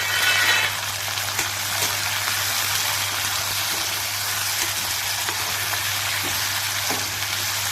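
Whole green chillies and tomatoes frying in oil in a pan for palak paneer, a loud continuous close sizzle with occasional soft stirring scrapes, no speech.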